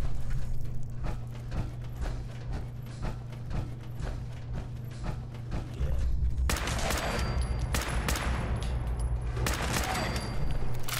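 Rapid gunfire crackles in the video game Fallout 4 in dense repeated shots over a low steady hum, growing louder and busier partway through, with no one talking.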